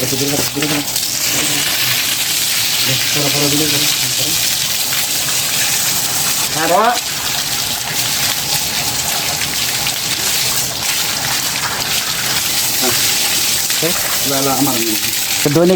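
Water sloshes and splashes steadily over a calf being bathed twice daily in intense heat, a continuous rushing pour with brief voice-like calls breaking through now and then.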